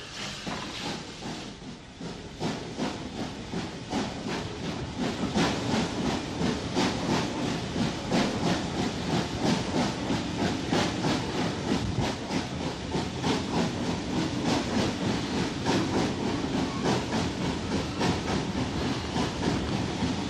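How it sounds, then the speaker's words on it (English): W-Class Mogul steam locomotive pulling a Belfast-bound train out of a station near a wooded level crossing, a steady loud rumble with hissing steam and faint rhythmic wheel clatter building slightly, no voices. "A W-Class Mogul heads a Belfast-bound train out of the station."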